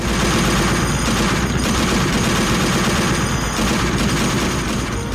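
Loud, continuous heavy machine-gun fire from fast boats, dense rapid bursts overlapping with no pauses, close and harsh, with boat engine rumble underneath.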